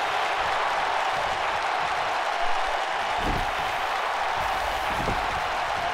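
A Miami Arena wrestling crowd roars and applauds continuously at full volume, a dense wash of cheering that never lets up, with a couple of louder thumps near the end.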